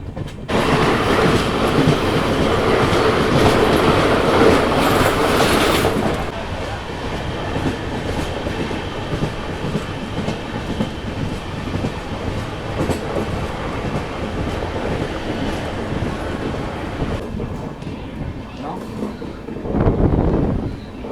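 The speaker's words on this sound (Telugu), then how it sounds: "ఓన్లీ వ్యాగ్నైన్ ఉంటే మన ట్రైన్ ఓన్లీ 100 km/h అయితే క్రూజ్ చేసుకుంటూ వెళ్తుంది" Tungabhadra Express passenger train cruising at about 100 km/h, with a steady loud rumble and rattle of wheels on rails throughout, a louder burst near the start and a swell again near the end.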